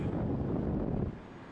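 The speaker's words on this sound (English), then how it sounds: "Very windy, very cold" Steady roar of strong, cold wind buffeting the microphone on a Northumberland beach, loud and continuous, easing slightly toward the end.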